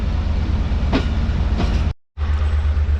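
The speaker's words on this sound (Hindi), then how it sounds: "तो अब ट्रेन जो है हमारी वो ट्रैक चेंज करके उस वाली लाइन पर आ जाएगी" Mohen Jo Daro passenger train in Sindh rolling slowly while changing track, a steady low rumble with faint wheel clatter and brief squeaks, cut by a short silent gap before the rumble resumes.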